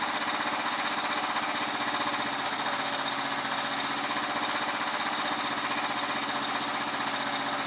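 The engine of a Royal Enfield Himalayan runs after carburetor tuning, a steady, even single-cylinder thump at constant revs, close and continuous throughout.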